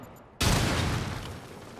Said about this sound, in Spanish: ¡Ojo con la explosión!